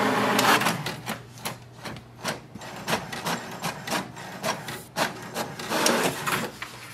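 An HP DeskJet 2734e inkjet printer runs off a Wi-Fi Direct information page, giving a steady mechanical whir broken by repeated clicking and rattling passes of the print carriage, close and clear with no talking.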